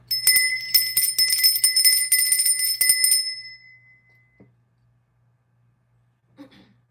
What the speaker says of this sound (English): Almost forgot my bell.